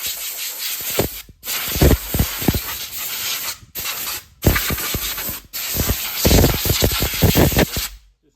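Compressed air blasts loudly and close at Honda Civic 2002 front brake parts in several hissing bursts with short pauses between them, and scraping rattles come through the spray.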